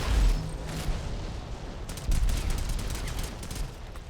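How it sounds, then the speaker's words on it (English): Gunfire in the mobile shooter Modern Combat 5 during a competitive tournament match, distant bursts of rapid shots and crackling fire, with a heavier thump partway through. "We already see some gunfire going on."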